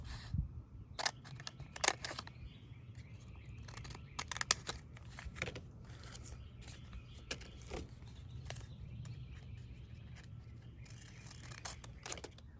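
Scissors snipping out small repair patches for a leaking NeoAir sleeping pad at home, a series of short sharp clicks and cuts close by with quiet handling noise between them.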